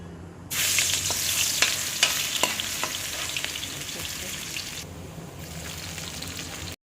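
Oil sizzles and crackles steadily in a hot pan, loud and close, with sharp pops and brief stirring scrapes, the hiss dropping off for a moment near the end while cooking a Filipino coconut-milk pork dish with shrimp paste.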